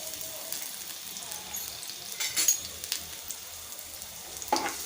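Finely chopped garlic sautéing in oil in a pan gives a quiet, continuous sizzle, with a few louder bursts of crackle as it is stirred.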